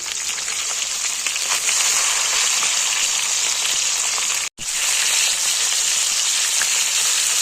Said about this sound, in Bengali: কাতল মাছটা ধুয়ে হলুদ রং মেখে ভাজা বসিয়ে দিয়েছি।